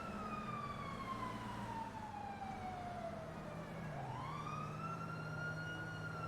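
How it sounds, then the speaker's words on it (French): An emergency vehicle siren, taken to be an ambulance, wails steadily and then shifts pitch as it passes by, loud and continuous, over low traffic rumble. "Tiens, une ambulance."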